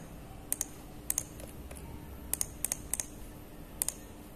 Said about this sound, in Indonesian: Oke, saya pakai Ctrl Shift Del ya.